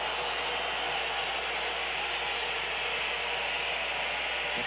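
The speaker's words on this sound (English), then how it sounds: "That's the whistles from the crowd" Steady broadband roar and hiss of a modest crowd whistling at a 1990 World Cup qualifying football match between Poland and England, continuous and fairly distant with no distinct individual whistles standing out.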